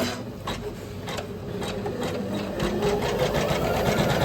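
Usha embroidery machine stitching steadily on its own, a continuous close mechanical whir with a fast, even rhythmic clatter that grows slightly louder toward the end.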